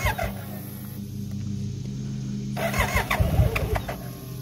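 A 1988 BMW K75 motorcycle engine cranks on the electric starter after sitting unused for 22 years, a steady churning drone that grows busier and louder in the final seconds.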